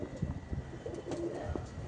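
A male Andhra red-flower pigeon coos nearby in a series of soft, low, throaty calls repeated through the moment, with faint background noise.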